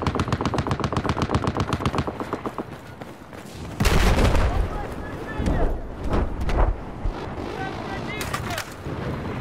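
Rapid machine-gun fire in Battlefield 4 rattles loudly at first, then gives way to heavier booming shots and scattered bursts, with people talking over the battle.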